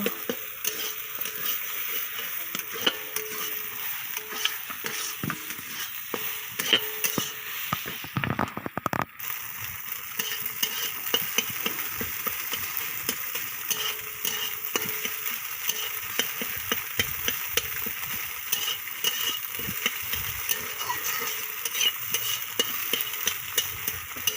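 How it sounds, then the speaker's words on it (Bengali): Spices stirred into food frying in a pan for a Bengali egg, soybean and potato curry, with turmeric and chili powder added; a steady close sizzle runs throughout, broken by light scraping and clatter of stirring. "হলুদ গুঁড়ো লঙ্কার গুঁড়ো এটাকে ভালো করে ভুজিয়া করে নেব"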